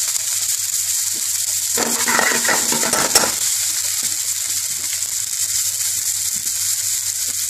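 Garlic, onions and green chili hit a hot pan for a Bengali-style tarka dhal, giving a steady close sizzle with a brief burst of stirring and utensil clatter in the middle.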